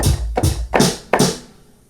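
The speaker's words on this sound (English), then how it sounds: "Step one, I'm just gonna put some random drums down." Basic programmed retrowave drum pattern built in Logic, a short loud sequence of punchy hits with bright noisy snare-like strikes over low kick thumps, close and alone.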